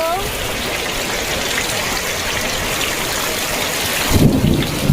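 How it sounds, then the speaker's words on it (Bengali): Heavy rain with thunder in the Sundarbans, a dense, steady loud downpour throughout with a deep thunder rumble rising near the end. "আর প্রচুর বৃষ্টি হচ্ছে"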